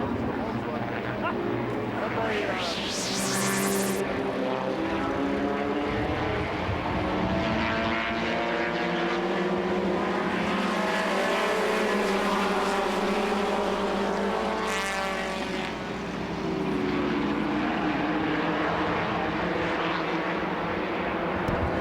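Race cars at Lee USA Speedway during an October Oktoberfest meet, including car number 73, roar steadily around the track, their engine pitch rising and falling as they pass, with a voice talking over the noise throughout.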